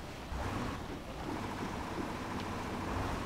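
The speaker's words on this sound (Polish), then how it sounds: "Ale fajnie się rozchodzą te fale niby na wodzie, te piany, nie?" Truck in the Spintires video game wading through water, making waves and foam: a steady wash of splashing surf-like noise with low engine rumble, continuous and fairly loud throughout, no talk.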